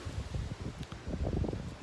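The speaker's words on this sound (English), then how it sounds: "since it's so windy, I can't really film outside" Steady low rumbling wind buffets the microphone outdoors, with gusty surges and a rustling texture throughout.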